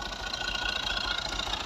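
A tractor engine idles close by with a steady, rapid chugging pulse and a mechanical knock, heard alone.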